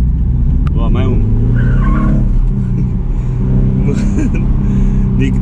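A BMW Z4 drifting, engine roaring loud and close with tire squeal and skidding, while someone talks excitedly over it.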